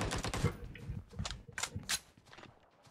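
Close bursts of rapid automatic gunfire in the battle-royale video game PUBG Mobile, a few quick volleys with brief gaps, fading out toward the end.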